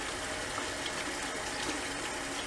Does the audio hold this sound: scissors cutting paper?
no